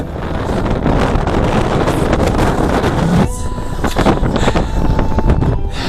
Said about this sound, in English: The wind is crazy up here.